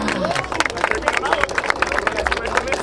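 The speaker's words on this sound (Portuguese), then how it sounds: "Palmas nessa batalha." A crowd at a rap battle claps and cheers, dense sharp hand claps in a lively continuous burst mixed with shouting and babble from the audience.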